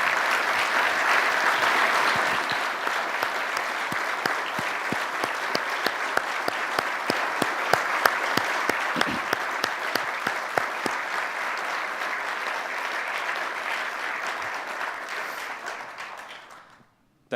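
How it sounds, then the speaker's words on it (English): A room full of people applauds honored guests at a Toronto Public Service gathering, a dense, steady round of clapping that stays loud for about sixteen seconds before stopping abruptly. "I'd just like to give you a round of applause."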